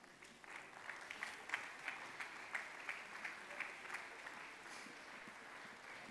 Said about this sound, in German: Einen herzlichen Applaus für unsere 11 Finalistinnen.